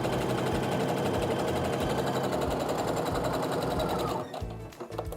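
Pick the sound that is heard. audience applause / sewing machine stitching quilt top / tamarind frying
sewing machine stitching quilt top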